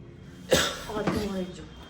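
A sudden cough bursts out close by, followed by a moment of rough throat noise and breathy sounds.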